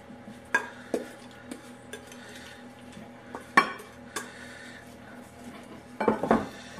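A cranberry apple crisp filling of cranberries and apples is scraped from a mixing bowl into a baking dish, giving a few sharp utensil clinks and knocks against the dish spaced over several seconds, with a louder cluster near the end.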